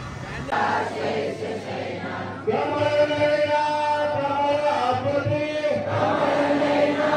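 A crowd gathers at a village festival feast in Vadavali Koliwada, a dense murmur of many voices that swells louder partway through and stays busy and close.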